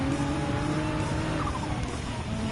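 Race car tyres skidding after contact in Gran Turismo 7 during a World Touring Car race at the Nürburgring, a steady engine drone with a faint, drawn-out squeal of tyres losing grip, moderately quiet and continuous.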